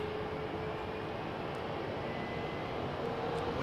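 Steady broadband roar of a jet airliner with CFM engines departing at an airport, loud and continuous without a break, with no voices over it.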